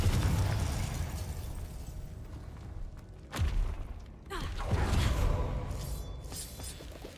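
A Confringo blasting spell from the Hogwarts Legacy video game bursts with a sharp, loud explosive crack that rumbles briefly, followed by a second booming impact, all over a continuous roar of game ambience with no talking.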